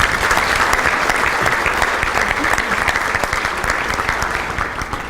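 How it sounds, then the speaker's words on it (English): Sustained, dense clapping from a breakfast-meeting audience of a chamber of commerce, loud and even from start to finish with no break. "Let's have a round of applause for the 3 of them."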